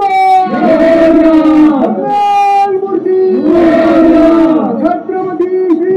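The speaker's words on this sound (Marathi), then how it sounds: "सर्वांनी थांबून एकच जल्लोष केला" Mountaineers cheer and chant in loud unison at a 6,013-metre summit, sustained, hoarse group shouts rising and falling in two long waves, close and forceful.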